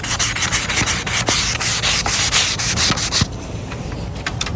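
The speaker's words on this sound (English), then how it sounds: "I've been kind of sanding it because it seems to knock off all the flakes a little better too." Sandpaper rubs steadily over a painted wooden rocking chair to knock off flaking paint, a loud close scratchy hiss in quick back-and-forth strokes that thins out briefly near the end.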